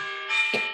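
A bell rings with a sustained, steady metallic tone and shimmering overtones, ringing out during a virtual online meeting with a brief rustle near the end.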